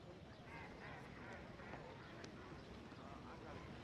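A duck quacks in a film scene, its calls fairly faint beneath louder talking and a busy, noisy background.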